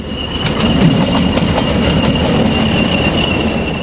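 A British Rail Class 40 diesel locomotive hauling empty grain wagons rumbles steadily past close by, with a continuous low roar, rattling wagons and a thin metallic squeal running throughout.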